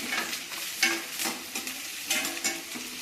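Onions frying in a pan for a lolga fish chilli dish, close crackling sizzle broken by repeated stirring scrapes in an uneven rhythm, with no voices.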